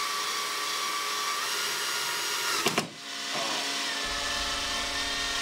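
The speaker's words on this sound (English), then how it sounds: "Using the 1 1/4 inch screws provided, attach the bottom mounting clips to the wall." A power drill drives screws to fix whiteboard mounting clips to a wall, a steady whirring motor run with a brief pause and restart midway, heard up close.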